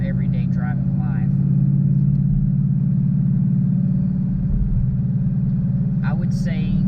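A 2016 Ford Mustang GT with a 5.0 engine drones at a steady low, even rumble while driving on city streets, with someone talking over it.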